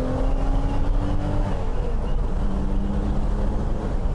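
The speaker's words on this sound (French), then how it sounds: "ça monte dans les tours et on sent que le moteur y arrive bien parce que la voiture est légère" A lightweight BMW E9 3.0 CSL engine climbs through the revs while driving, a steady loud drone with a rising tone heard from inside the car, continuous with no talk.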